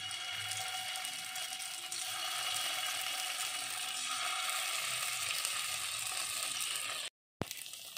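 Paneer cubes fry in oil in a pan on a low flame for a tawa paneer fry, giving a steady, close broadband sizzle with crackling throughout, briefly cut to silence near the end.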